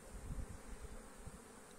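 Honeybees buzzing in a dense, steady drone at a beehive in a pine area in November, soft and close with a few louder passes near the microphone.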